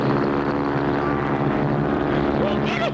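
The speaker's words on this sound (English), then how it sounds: "There's another plane right on top of us." A propeller airplane engine roars steadily at full throttle while flying low over trees, a loud continuous drone with a rising whine near the end.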